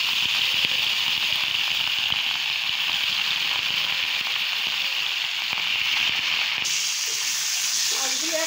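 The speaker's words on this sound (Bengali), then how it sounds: "তেলটা গরম হয়ে গেছে, মাছ দিয়ে দিলাম।" Rohu fish pieces frying in hot oil, a steady loud broadband sizzle and hiss that runs unbroken for the whole stretch, shifting slightly in tone near the end.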